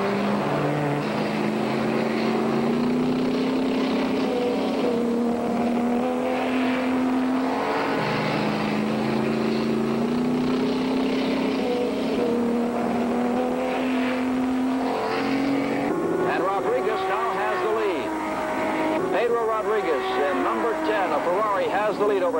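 Race cars at the 1964 Nassau Trophy race roar continuously, engines droning and rising in pitch as they pass, with a commentator talking over the steady mechanical noise throughout.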